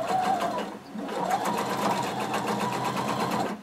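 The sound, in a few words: sewing machine stitching jumpsuit inseam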